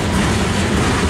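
A freight train rolling past close by, a loud continuous rumble of heavy wagons with a faint clickety-clack, heard alone.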